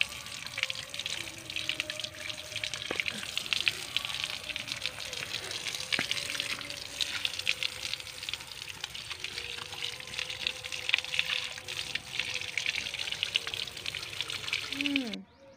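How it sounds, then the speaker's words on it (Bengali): Fish are washed under a running kitchen tap, with a steady hiss of flowing water and irregular splashes and clatter from handling throughout, ending abruptly. "এবার আমি মাছগুলোকে ধুবো।"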